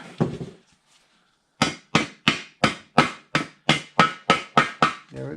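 A hammer taps a transmission part into place during a Chevy transmission swap on a 1952 Studebaker 2R5 truck. One quick knock comes first, then after a pause about eleven sharp, evenly spaced metallic strikes ring out close by.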